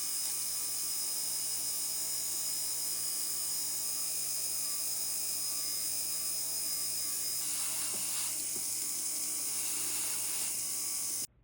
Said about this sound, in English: We're going to do final wheel polishing.